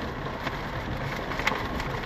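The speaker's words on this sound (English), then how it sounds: "I'll show you what it's doing outside right now. It's raining" Rain falls steadily outside, making a continuous, even hiss at moderate level with no voices over it.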